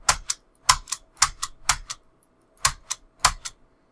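Bursts of clacky keystrokes in uneven clusters, with a few heavier presses among lighter taps, close by with quiet gaps between runs.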